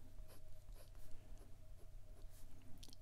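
A Ferris Wheel Press brush fountain pen with an extra-fine nib scratches across paper in short, quiet strokes and taps in an irregular rhythm, close up.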